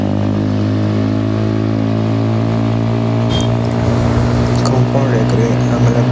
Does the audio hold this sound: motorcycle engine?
yes